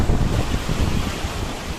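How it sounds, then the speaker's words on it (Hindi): Strong wind buffets hard near a waterfall, a loud rumbling gusty roar pressing on the microphone, with the rush of falling water blended underneath and no talk. "बहुत तेज हवा चल रही है, यहाँ से दूर जाना पड़ेगा।"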